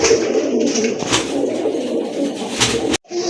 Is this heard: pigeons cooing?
yes